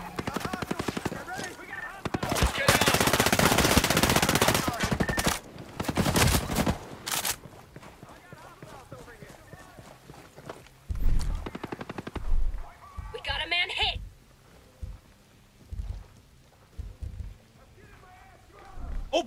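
Gunfire from the military shooter game Ghost Recon Breakpoint: a loud burst of rapid automatic fire and scattered shots, followed by sparser single reports under radio-style voices.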